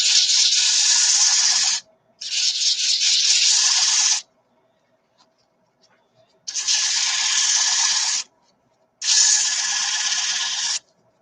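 Sanding on a spinning wood piece comes in four bursts of hissing abrasive friction, each about two seconds long, separated by short quiet pauses.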